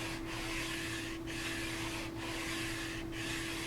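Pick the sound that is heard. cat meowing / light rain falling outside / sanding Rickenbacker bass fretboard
sanding Rickenbacker bass fretboard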